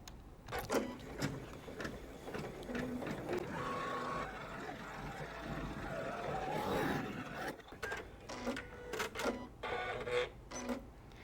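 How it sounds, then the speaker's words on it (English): A sewing machine stitches the body of a butterfly tool pouch in black or dark gray thread, running in quick mechanical bursts with short pauses between runs. It sounds close and fairly quiet. "we're going to stitch the body"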